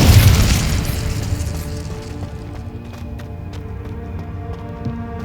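Incendio fire spell cast in Hogwarts Legacy: a sharp booming burst at the start, then a lingering roar with game music tones and scattered clicks underneath, no voices.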